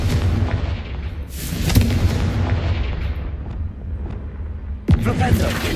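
A Confringo fire spell explosion in Hogwarts Legacy: loud booming blasts with a rumbling tail, one heavy burst midway and another sharp hit near the end.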